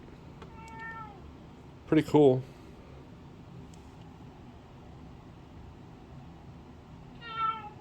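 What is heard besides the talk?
cat meowing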